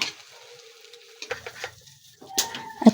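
Beaten egg mixed with chopped tomato and onion hitting a hot pan, a soft sizzle with a few light clinks and scrapes, quiet and close, louder bursts near the end.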